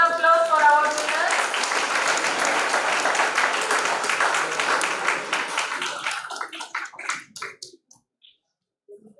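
An audience at a university project expo valedictory programme applauds its winners, dense sustained clapping that tapers into scattered claps and then fades to silence.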